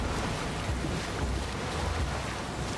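Rough sea swells and wind wash steadily around a sailing boat at sea in Assassin's Creed Odyssey, a dense, continuous roar of surf and gusting air with no voices.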